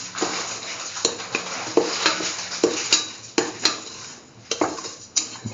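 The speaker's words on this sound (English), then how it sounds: "Mix thoroughly." A spoon stirring beetroot semolina pudding mixture with sugar in a pot, giving repeated scraping knocks and clinks against the pan at an uneven rhythm, with faint sizzling between strokes and no talking.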